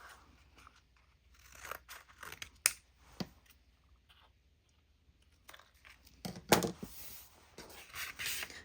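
Fiskars scissors snip through material in a few sharp, close crunching cuts, spaced apart with quiet handling between them and a louder cluster of cuts toward the end.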